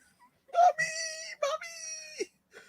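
A man from Big Brother 23 lets out a loud, drawn-out wailing scream after hurting himself, two long pained cries with a short break between them, heard up close and alone.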